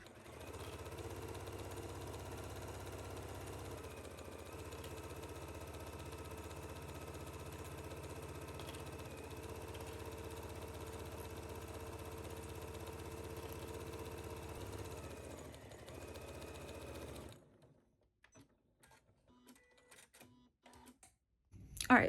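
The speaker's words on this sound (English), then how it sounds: "we're going to sew this at 5/8 at our machine on both sides" A sewing machine stitching the side seams of pants at 5/8 inch, a steady motor hum with fine rhythmic whir running for about seventeen seconds, then stopping into near quiet.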